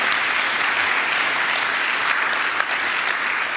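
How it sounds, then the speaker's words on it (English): A conference audience gives the panelists a sustained round of applause, dense and even clapping at a fairly loud level throughout, with no speech over it. "A round of applause,"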